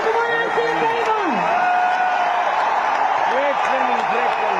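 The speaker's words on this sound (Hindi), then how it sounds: "जोरदार तालियां" Sustained applause from an audience at a training gathering, a steady, dense wash of clapping that continues throughout while a voice speaks over it.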